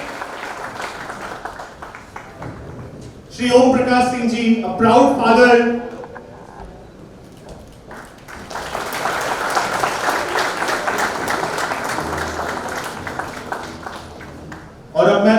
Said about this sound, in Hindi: ओम प्रकाश सिंह जी के लिए एक बार जोरदार तालियां